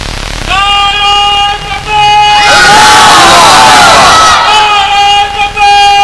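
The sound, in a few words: crowd shouting takbir, Allahu Akbar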